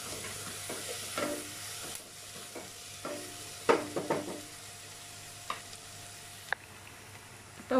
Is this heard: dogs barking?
no